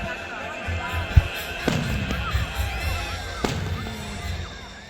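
Fireworks bursting at a 4th of July show at Woodland High School in Woodland, California: a few sharp booms and crackling pops spread over several seconds, with faint crowd noise in the background.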